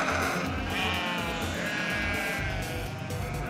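Sheep bleat repeatedly around a camper van on the Transalpina road in Romania, several overlapping calls rising from a dense flock over a steady background hum.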